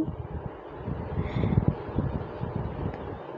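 A cool wind blows outdoors, producing a low, uneven rumble and buffeting against the microphone that swells slightly midway and then eases.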